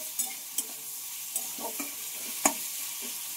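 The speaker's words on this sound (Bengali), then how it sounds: "টমেটো কাঁচা লঙ্কা দিয়ে আবার একটু ভালোভাবে মিশিয়ে নিতে হবে।" Tomato and green chili being stirred into pointed gourd in a pan, with a steady soft sizzle under scattered scraping clicks of a spatula, close and fairly quiet.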